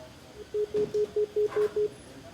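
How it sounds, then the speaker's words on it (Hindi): A telephone line disconnects: seven short, evenly spaced beeps of the same pitch, faint and alone over a quiet line. "लगता है कि फोन कट हो गया है"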